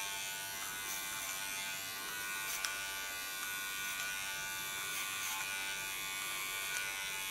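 An electric hair clipper running steadily while cutting short hair, a close, continuous buzzing hum with slight variations as the blade moves through the hair.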